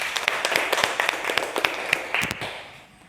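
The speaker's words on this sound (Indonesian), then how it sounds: "Tepuk tangan untuk Yola dan Chandra" Brief, light applause from students in a classroom for two classmates, a scattering of sharp claps that thins out and fades over about three seconds.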